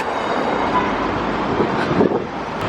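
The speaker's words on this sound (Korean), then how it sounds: "스폰지 밥 트램." A tram rumbles past at street level in Portugal with a steady low roar and some faint metallic squeals, traffic noise blending in.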